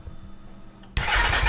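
A 2023 Yamaha MT-10 with a newly installed Leo Vince decat exhaust cranks and catches abruptly, jumping to a loud, rumbling idle through a throaty exhaust after a quiet moment.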